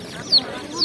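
Chickens at a market in the Lviv region cluck nearby in two short, sharp calls against a quiet farmyard background.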